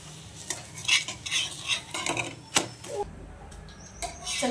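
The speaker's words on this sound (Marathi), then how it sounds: "पराठा एका बाजूने परतून घेतला, परत दुसऱ्या बाजूने सुद्धा चांगला असा परतून चांगला शिजवून घ्यायचा आहे" Cucumber paratha frying in oil on a pan, with scattered scraping and stirring clatter over a soft, steady sizzle, ending in a quieter stretch.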